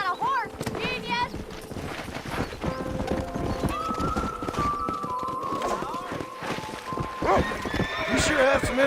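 Several horses being broken in within Red Dead Redemption, a Western video game, neigh loudly and repeatedly over steady galloping hoofbeats, with shouts and voices mixed into a busy, close scene.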